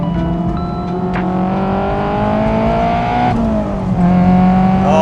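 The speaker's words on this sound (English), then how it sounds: "Love the good old sound of VTEC in the morning." A Honda S2000's VTEC engine revs up high and loud, its pitch climbing and holding over a steady drone during a mountaintop road trip, with no talking.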